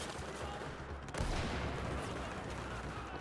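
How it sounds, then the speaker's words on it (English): A grenade blast in the shooter game Battlefield 4 hits just after the first second, a loud broadband burst that settles into a rumbling, noisy combat din. "That's a grenade."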